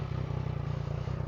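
A triple-cylinder motorcycle engine on a new exhaust pipe runs at a steady close idle, a low rhythmic throb heard alone for just over a second.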